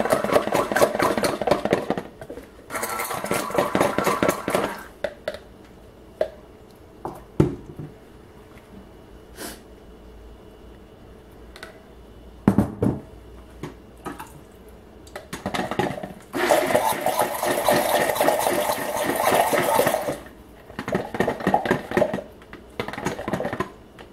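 A stick blender whirs through soap batter in several loud bursts, with quieter pauses between runs as the batter is mixed for a bamboo lotus hidden hanger swirl soap.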